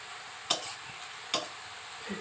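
Sliced onions frying in hot oil into beresta for a mutton kala bhuna, a steady soft sizzle close by, broken by two sharp clicks of a utensil stirring against the pan.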